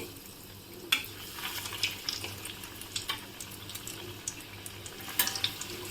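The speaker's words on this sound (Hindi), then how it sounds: "हमारा तेल गर्म हो गया है। बस अब हम एक एक अपने कटलेट को लेके डालते जाएंगे।" Suji vegetable cutlets go one by one into hot oil in a kadhai. A faint, continuous sizzle is scattered with soft crackles and a few light clinks, with no talking.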